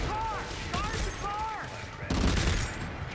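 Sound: gunfire in the video game Dead Space

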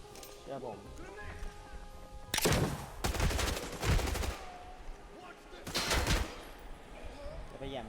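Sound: gunfire in the video game Arena Breakout

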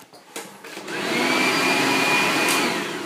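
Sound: hair dryer running in hotel room

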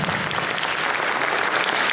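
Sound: audience applause

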